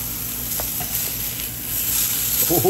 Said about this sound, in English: I like when that sausage gets that little bit of black on there